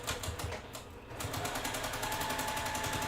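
A sewing machine stitching fabric held with pins, a rapid regular mechanical chatter that briefly slows near the start, then runs steadily and close.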